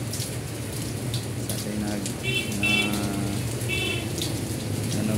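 Steady rain falling during a typhoon, a broad continuous wash of patter with some dripping, with a person talking over it throughout.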